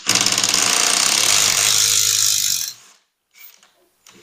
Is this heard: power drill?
yes